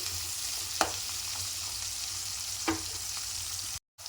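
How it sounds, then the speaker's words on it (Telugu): Onions sizzle steadily in a pan for brinjal masala curry, a soft continuous frying hiss with two faint stirring clicks, no voices over it. "ఆనియన్ ఉల్లిగడ్డ కొంచెం కలర్ వచ్చే వరకు వేయించుకోవాలి"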